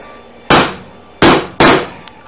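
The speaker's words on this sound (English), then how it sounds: "because you're chopping against the end grain of the red oak, it's very hard, and it's quite difficult to chop it out" A hammer drives a chisel into red oak end grain while cutting a cross lap joint, with three loud, close, hard whacks separated by short pauses.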